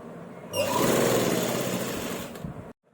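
An electric sewing machine runs a shoulder seam on a garment, starting up with a short whine into a fast, even rattling stitch for about two seconds, then stopping abruptly into silence; close and moderately loud with no talking.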